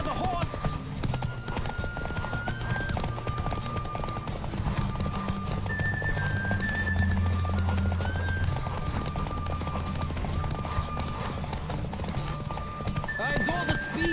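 In The Witcher 3: Wild Hunt, hooves clip-clop at a steady galloping rhythm under continuous music, with a horse whinnying near the start and again at the end.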